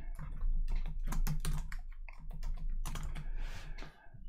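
Rapid typing on a computer keyboard, bursts of close, crisp key clicks with brief pauses between runs and no voices.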